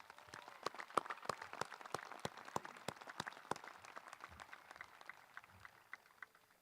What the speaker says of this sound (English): Give this group a round of applause for their accomplishments.